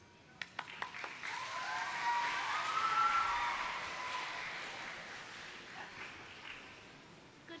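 Audience applause at a school choral festival opens with a few sharp individual claps, then swells into a broad, steady round of clapping that fades gradually, heard somewhat distant in a hall.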